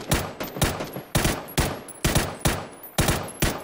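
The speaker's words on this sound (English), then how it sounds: "I don't know where those shots are coming from" Rapid bursts of automatic gunfire in the shooter game PUBG, several short volleys of sharp cracks in an uneven rhythm, loud and close, with no talk over them.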